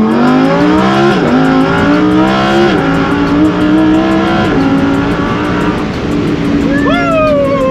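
A car engine revs hard on a street in loud repeated runs, its pitch climbing and dropping through the gears across the whole stretch, close and filling the sound.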